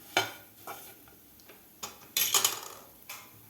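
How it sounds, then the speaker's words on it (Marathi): Baby potato fry with chili flakes is tossed in a pan, giving a handful of scattered, close scraping and clinking strokes over a faint sizzle, fairly quiet, with no voices. "व्यवस्थित आपल्याला परत एकदा हलवून घ्यायचं आहे."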